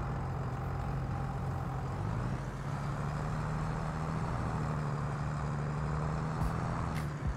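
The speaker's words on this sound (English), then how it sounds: "the tractor sound is too loud" A Farming Simulator 22 tractor engine drones steadily at low pitch, a continuous idling hum without a break and with no talk over it.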